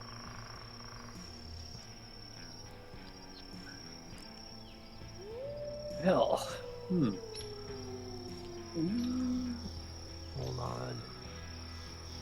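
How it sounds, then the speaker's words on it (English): Steady insect chirring, like crickets, runs through the whole clip as a constant high background texture, with a few louder sliding tones and brief speech partway through. "I hear crickets."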